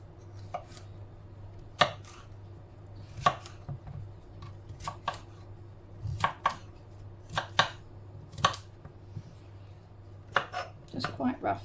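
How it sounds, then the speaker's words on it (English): A knife roughly chopping green courgette on a board for jam, giving a dozen or so sharp, separate cuts at an uneven pace, close by and alone over a low steady background hum. "Now what I'm going to do is I'm just going to chop this up and pop it in my jam pan."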